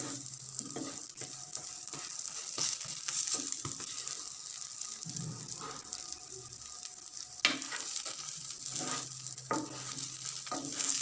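Flatbread pastry stuffed with fat and vegetables sizzles steadily as it fries in a pan, with soft scrapes and clicks as it is flipped over.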